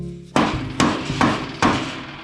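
A hammer strikes four times in a loud, uneven rhythm while airbags are fitted to a chopped Ford truck, each blow close and sharp with a short ringing decay.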